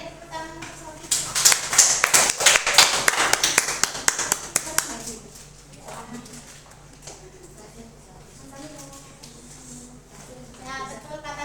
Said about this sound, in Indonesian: Boleh tepuk tangan untuk Sofi.